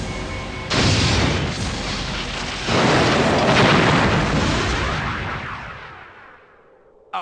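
Weapons fire and explosions in Star Trek: Borg roar as a loud, broad rumbling blast, a second surge hitting partway through before the noise slowly fades out.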